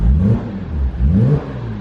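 A Porsche 987 Boxster S engine revs through its stock exhaust, two throaty swells of rising and falling pitch close by, with a brief dip between them and no talking.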